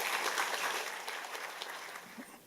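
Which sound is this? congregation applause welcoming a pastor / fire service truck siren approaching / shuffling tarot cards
congregation applause welcoming a pastor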